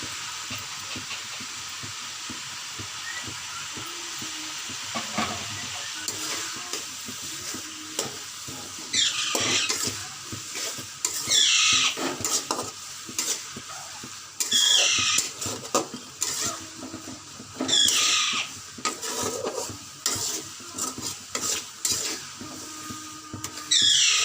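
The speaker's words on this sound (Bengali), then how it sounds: "এবার যে পেঁয়াজ কেটে রেখেছিলাম এটা এর মধ্যে দিয়ে দেবো" Chopped onions sizzle in hot oil in a pot for Bengali chicken biryani, with a steady fry under repeated scraping stirs of a spoon against the pot, close and loud, with no talking.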